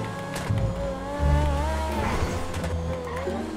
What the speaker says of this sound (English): this car moves